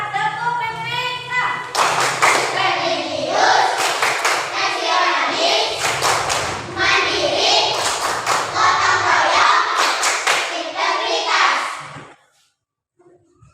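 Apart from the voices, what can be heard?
class doing a rhythmic PPK clapping chant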